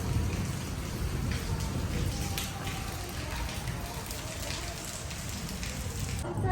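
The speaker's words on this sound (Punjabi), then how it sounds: "ਵਿੱਚੇ ਮੀਂਹ ਪੈ ਰਿਹਾ" Steady rain patters on a surface, a dense continuous hiss with a low rumble underneath and no voices.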